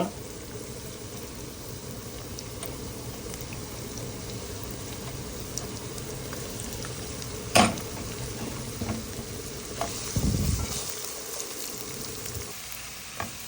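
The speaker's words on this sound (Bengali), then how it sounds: "আমার পেঁয়াজ রসুন আদা এবং আপনার কাঁচামরিচ ভাজা হয়ে গেছে" Continuous gentle sizzling of onion, garlic, ginger and green chilies frying in oil, close up, with a sharp clink and some stirring noises partway through.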